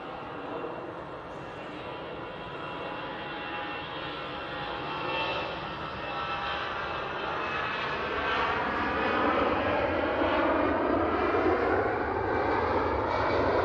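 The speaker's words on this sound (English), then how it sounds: "EasyJet going next to Geneva." An EasyJet airliner departs Manchester Airport bound for Geneva, its steady engine roar filling the air and swelling slightly louder toward the end, with no talk over it.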